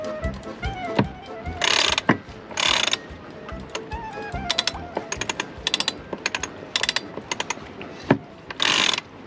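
Bursts of quick metallic clicking from a ratchet tool during final tightening aboard a sailing boat, short rattling runs alternating with single clicks and knocks, close and fairly loud.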